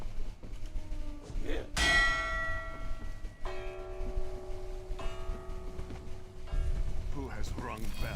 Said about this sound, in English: Who has rung bell and woken Sadir?